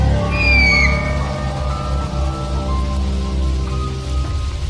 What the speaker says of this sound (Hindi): बरसात की एक काली रात थी।